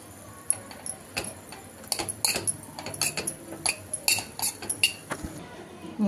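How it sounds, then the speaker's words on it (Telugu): Tamarind rice (pulihora) being mixed in a steel vessel, with a scattered series of close, light metallic clinks and scrapes of a utensil at an uneven rhythm over a quiet background. "నేను కొంచెం పులిహోర కలుపుతున్నాను"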